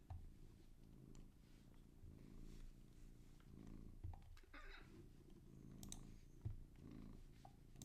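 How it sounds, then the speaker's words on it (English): A house cat purrs in a low, steady rumble close to the microphone, faint but continuous, with a few soft bumps and rustles and no one talking. "That's just my cat participating."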